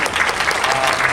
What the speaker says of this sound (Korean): 그래서 이 배우들한테 더 박수를 보냅니다